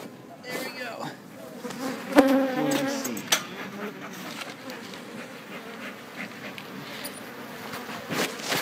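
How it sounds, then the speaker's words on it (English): A swarm of bees inside a grill: a continuous close buzzing hum of many insects, with scattered clicks and handling noises, and no talking. "Grilling bees."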